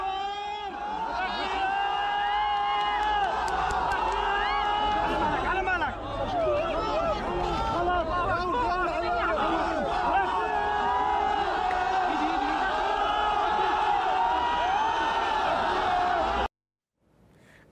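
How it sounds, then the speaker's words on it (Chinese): Dense crowd of people cheering and chattering around a Syrian earthquake rescue site as a young girl is pulled from the rubble, a loud sustained roar of many voices with whoops, ending abruptly. "叙利亚的救难队在救出小女童之后，成群的民众在周围欢呼"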